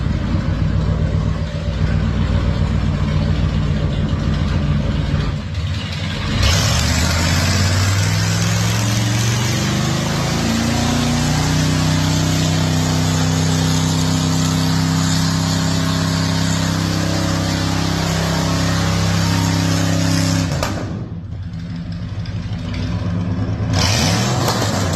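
A GM car with a 6.2 L V8 is revved hard inside a shop, its engine sweeping up to a loud sustained high-rpm roar before dropping back to idle and briefly revving again near the end.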